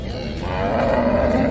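A cow at a cattle market lets out a low, drawn-out moo, close and fairly loud, swelling toward the end.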